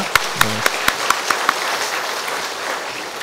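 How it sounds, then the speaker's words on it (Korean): Church congregation at a Sunday Easter service claps in thanks, steady crowd applause with several sharp individual claps standing out early, continuing evenly through the clip. "우리 하나님 앞에 우리 감사의 박수를 올려드리겠습니다"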